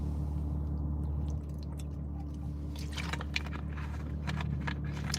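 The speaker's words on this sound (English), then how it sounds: "let me drink some water." A person takes a few sips of water, with soft wet swallowing and squishy mouth sounds close by over a steady low hum, and no talking.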